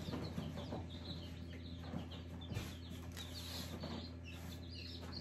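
Newborn chicks in a brooder box just out of the incubator make a steady chorus of faint high peeps over a constant low mechanical hum.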